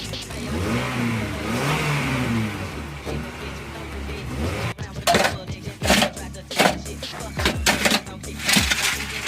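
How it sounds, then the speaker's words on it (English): A Honda Stream with a K20A engine and its catalytic converter removed, idling and then blipped in short sharp revs that grow loud and choppy in the second half, with a person speaking over the early idle. "So this is what the car sounds like now. Quiet, give it a little rev."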